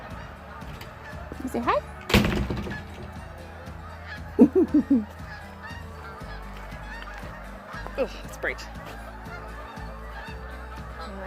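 Geese honk several times outdoors, a quick run of calls in the middle, while a person speaks briefly nearby.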